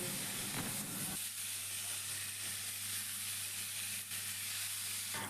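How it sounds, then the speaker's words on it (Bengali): Kundri (ivy gourd) and mixed vegetables frying on a medium gas flame give a steady, even sizzle close by, with a constant low hum beneath and no voices. "সব কিছু সবজিকে আমি পাঁচ মিনিট খুব ভালো করে গ্যাসের ফ্লেমটা মিডিয়াম রেখে ভেজে নেবো"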